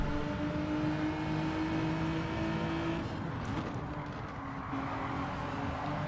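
Race cars in a Gran Turismo drag race to the finish line, a loud, steady, droning engine roar under sustained acceleration, close and continuous, with the pitch shifting partway through.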